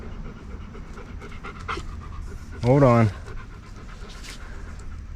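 A dog panting rapidly in bursts at a backyard pond during a fishing outing, close and steady, with someone speaking briefly over it and a sharp yelp-like whine standing out near the middle.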